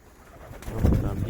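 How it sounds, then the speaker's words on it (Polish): Wet pigeons cooing nearby in a yard after heavy rain: a short, low, throaty coo that swells and grows louder toward the end. "Zobaczcie jak te gołębie wyglądają."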